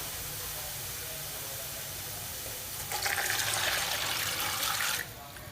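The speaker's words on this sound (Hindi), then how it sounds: "तकरीबन 1 जग इसमें मैंने पानी का डाल दिया है।" Water from a jug is poured into a cooking pot holding mutton trotters for paya, a steady rushing hiss that swells louder for about two seconds and then drops away.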